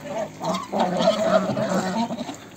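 Busy poultry noise with chickens clucking steadily for a few seconds, dense and fairly close, with other farm animal sounds mixed in.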